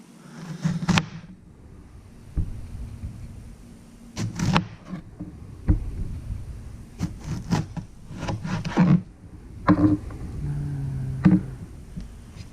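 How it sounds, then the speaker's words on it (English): A knife slices a cooked Maine brook trout into pieces on a board, making scattered short cuts and taps in an uneven rhythm, close by, with no talk. "Just gonna cut it into slices."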